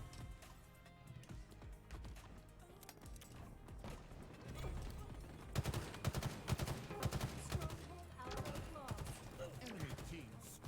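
Rapid gunfire from a ranked video game match, with dense bursts of automatic shots over game music and effects, growing busier and louder in the second half.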